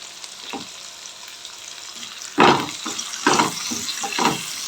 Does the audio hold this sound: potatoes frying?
yes